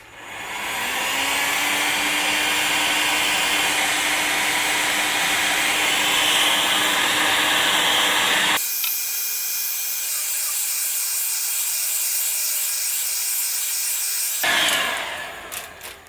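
An electric heater or heat gun warms window tint while the film is peeled off with pliers, giving a loud, steady airy blowing hiss that holds for most of the stretch, changes tone midway, then cuts off near the end, no talk.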